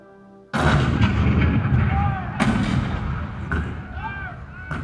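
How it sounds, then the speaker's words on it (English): Cannon fire from a Fort Sumter, 1861 war scene in a theme park presidential show: sudden loud booms after a quiet start, several heavy blasts with rolling echoes over about four seconds. "The cannon spoke for war, bitter, violent, and devastating."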